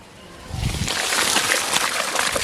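Rice poured into a pot of boiling water for kali, giving a soft rushing splash and sloshing that builds after a quiet start and keeps on steadily.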